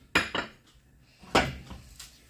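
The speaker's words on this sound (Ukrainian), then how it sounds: "Так, ставлю сковорідку на газ." A frying pan set down on a gas stove while cooking Ukrainian buckwheat patties gives two sharp metallic clanks close by, then a second louder knock and a faint rattle, with no talk.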